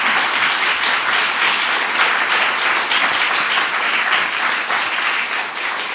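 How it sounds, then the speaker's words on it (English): Dense, sustained applause from a conference audience thanking a panel on economic mobility in New York City, loud and continuous throughout with no pauses. "can you all join me in giving a big round of applause?"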